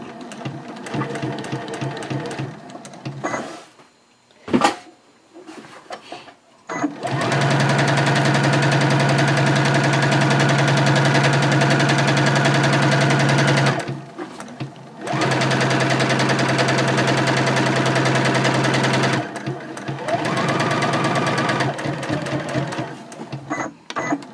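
A sewing machine back stitches a seam on a reversible drawstring gift bag, running in long steady mechanical bursts separated by short pauses and a brief clack, loud and close with no talk.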